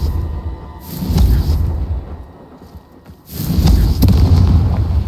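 Confringo fire-blast spell explosions in Hogwarts Legacy, two heavy booming bursts with rumbling tails, the second landing a few seconds after the first, loud and close.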